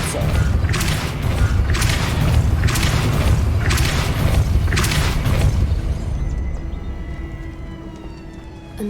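In the video game Hogwarts Legacy, the Depulso spell hits with a booming impact amid rhythmic mechanical clanks and rumble, then a fading ring of creaking tones.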